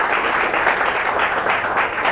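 A church congregation claps in a steady, dense round of applause. It sounds fairly close and fills the whole moment with no voices.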